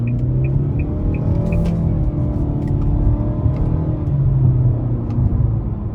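A 2024 Nissan Altima SR 2.5 with a CVT and paddle shifters accelerates in first gear out of a corner, heard from inside the cabin as a steady, loud engine drone and road rumble with a rising tone.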